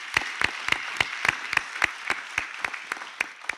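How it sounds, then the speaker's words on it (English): Applause at a graduation ceremony as a Master of Science in Computing graduate is called, heard as steady, evenly spaced claps in a regular rhythm, moderately loud and with no talk over them. "a round of applause"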